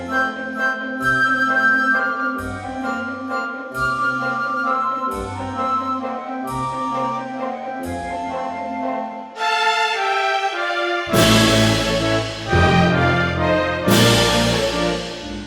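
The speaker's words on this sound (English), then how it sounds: "chuck-chucks by staccato middle strings and pizzicato double bass goes the boom, along with staccato bassoons." Orchestral mock-up with short staccato middle strings chucking in a steady rhythm, pizzicato double bass booming on the beats and staccato bassoons, building into a fuller, louder sustained passage near the end; no voices.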